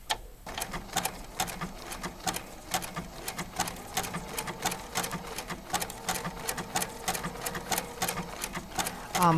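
A sewing machine running a blanket stitch on fused appliqué, its needle ticking in a quick steady rhythm with occasional brief pauses, close and clear with no voices.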